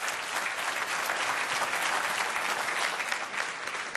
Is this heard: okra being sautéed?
no